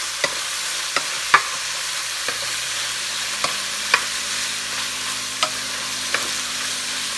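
Shrimp frying in a pan for a Puerto Rican-style Chinese fried rice, a steady close sizzle broken by sharp clinks of a utensil stirring every second or so, with no talk.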